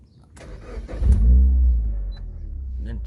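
A turbocharged Suzuki Swift ZC31S that has sat unused cranks briefly with a few whirring starter bursts, then catches and fires into a loud, low engine rumble that settles into a steady idle.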